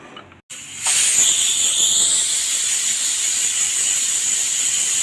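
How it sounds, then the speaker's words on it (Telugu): A kitchen pressure cooker lets out a loud, sustained steam whistle, a hissing shriek that starts abruptly after a brief pause and holds steady, close by, with no talking. "నాలుగు విజిల్లు వచ్చినాయి."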